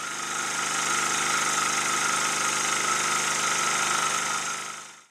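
A model Victoria steam boat engine running on compressed air at 35 pounds per square inch gives a loud, steady, fast mechanical chugging and hiss, close up and alone, dropping off as it stops at the end.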